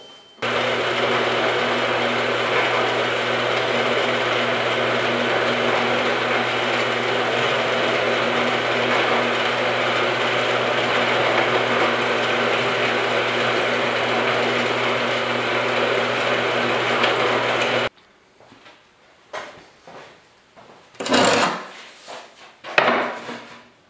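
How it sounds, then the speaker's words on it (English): A drill press motor drones steadily and loudly while drilling holes in metal for most of the time, then cuts off, followed by a few scattered clanks and handling noises. "put it in the drill press like that, and then you can drill"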